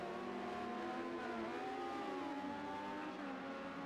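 Race cars in Formula GT racing video game, LMP prototypes at Algarve, engines droning and shifting pitch as cars pass, a dense continuous whine and roar at moderate distance with no talk.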